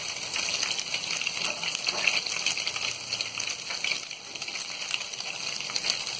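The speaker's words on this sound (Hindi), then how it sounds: "मैं यहाँ घी का इस्तेमाल कर रही हूँ, आप चाहें तो यहाँ बटर से भी आप इसे तल सकते हैं।" French toast fries in ghee in a pan with a steady, bright sizzle and crackle that holds at moderate loudness throughout, with no talking.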